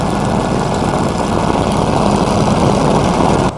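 A helicopter flies over Victoria Falls in Zambia, its engine and rotor making a loud, steady, close drone that holds for the full stretch with no voices.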